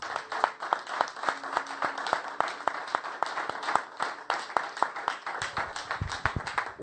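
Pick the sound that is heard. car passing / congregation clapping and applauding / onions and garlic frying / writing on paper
congregation clapping and applauding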